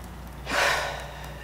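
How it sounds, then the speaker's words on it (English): One soft, deep breath drawn in through the nose or mouth, quiet and close, during a calm guided tapping exercise. "I want you to take a deep breath in"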